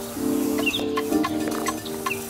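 Birds chirp and call outdoors, heard faintly through a window indoors, with a few short, scattered calls over a steady background hum and no talking.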